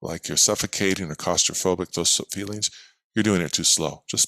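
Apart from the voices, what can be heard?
No everyday noises stand out.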